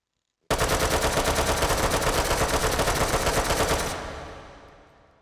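An AK rifle fires full-auto in the H3VR game, one long, rapid, evenly paced burst of close, loud shots lasting over three seconds, then a ringing tail that fades out.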